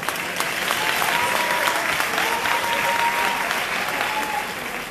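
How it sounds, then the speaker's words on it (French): Audience applause at a Nuit des Idées 2020 event, a steady full wash of clapping lasting around five seconds and tapering slightly at the end. "on peut applaudir de notre côté africain"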